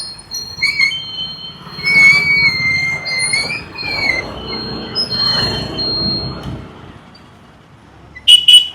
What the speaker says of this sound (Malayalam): ഇതാണ് തൃശ്ശൂർ റെയിൽവേ സ്റ്റേഷൻ